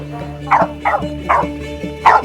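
Several dogs at an animal shelter bark in a loose, uneven series of five or six sharp, fairly close barks over a steady low hum, with no talking.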